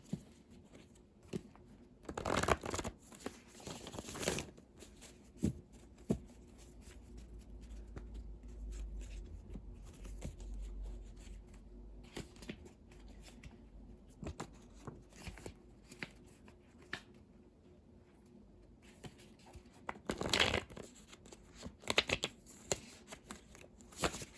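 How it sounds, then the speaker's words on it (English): Tarot cards are shuffled up close for a long stretch, with soft riffling and several sharper snaps and taps as the worn, softened deck is worked. "They're getting harder to shuffle"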